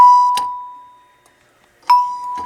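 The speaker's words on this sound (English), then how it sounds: "You can see the hammer or the plunger going up and down, hitting the chime bar." A doorbell chime rings two clear tones, each struck by a plunger hitting the chime bar with a soft mechanical click and left ringing out, close and loud with quiet between.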